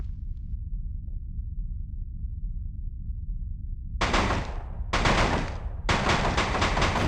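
Rapid automatic gunfire from a weapon in the Die Hard: Vendetta video game rips out in three loud bursts after several seconds of low, steady rumble.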